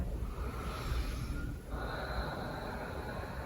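Slow, deep breathing during a seated yoga forward bend in a supported chair practice, a steady airy inhale and exhale sustained close to the mic with no talking.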